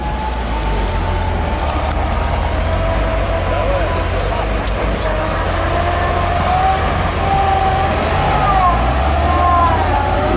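A military GAZ 66 off-road truck creeps through a ditch with a steady, low engine rumble and faint whining tones running continuously throughout, while voices talk over it.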